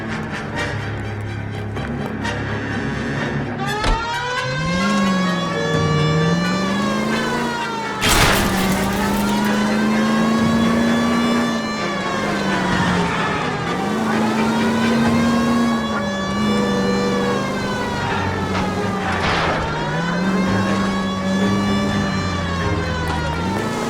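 Car driving in L.A. Noire with a wailing police siren rising and falling continuously over a steady engine roar, loud and close throughout, with a sharp bang near the middle.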